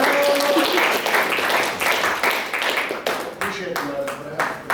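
Audience applause at a Toastmasters meeting in Winter Park, a loud, close burst of clapping with a few distinct sharp claps, while voices speak over it.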